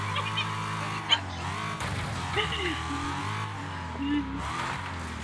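Cars race in the video game Wreckfest, with engines droning and revving throughout and a few honk-like tones. Voices talk over the engines.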